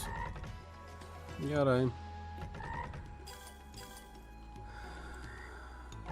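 Cartoonish frog croaks from the Tai the Toad online casino slot game, a warbling croak sounding once, then ratcheting reel clicks and chimes, with someone speaking quietly.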